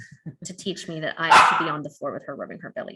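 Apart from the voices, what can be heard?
puppy barking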